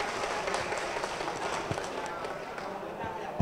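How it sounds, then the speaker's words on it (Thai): A crowd at an outdoor political members' event applauds a speaker with continuous dense clapping, under a loudspeaker voice and busy surroundings. "ขอเสียงปรบมือให้กับพี่ก้องพงพันธ์ยอดเมืองเจริญ"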